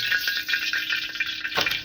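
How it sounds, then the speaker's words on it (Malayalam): Mustard seeds crackling in hot oil at the start of a Kerala pathila leaf curry, a dense steady spatter of small pops with a louder burst near the end, close and fairly loud. "ആദ്യം തന്നെ എണ്ണ ഒഴിച്ചിട്ട് കടുക് പൊട്ടിക്കാം മക്കളെ."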